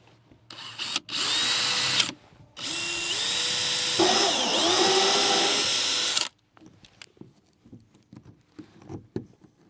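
Power drill driving screws into the wall panel of a 2023 Ford van being built out, in two sustained whirring bursts with a short pause between, then quieter tapping and handling noises afterward.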